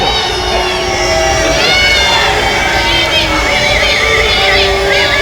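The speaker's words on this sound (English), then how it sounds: "Jimmy getting some cheers from the crowd" A dense wrestling-event crowd roars and shouts continuously, with cheering voices and whistles rising over a steady wall of noise throughout.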